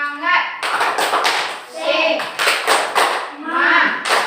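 A classroom of children claps out a rhythmic morning cheer, sharp hand claps in quick bursts alternating with chanted voices and a teacher's speech between the beats.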